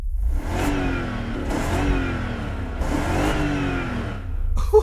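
A BMW X5 engine with a holed exhaust revs up several times in a row, each rise a raspy rumbling surge, loud and close, with no talk.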